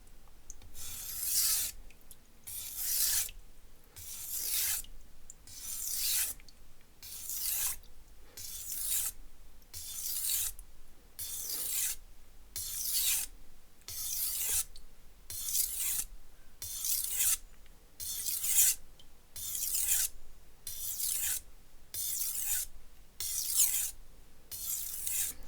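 Knife with an asymmetrical bevel stroked over a sharpening stone, about twenty evenly spaced gritty rasping passes in a steady rhythm, close and clear with short quiet gaps between strokes.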